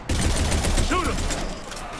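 Gunfire in a sci-fi shooter video game on insanity difficulty, a short burst of rapid shots under game voices and background battle noise, lasting about two seconds.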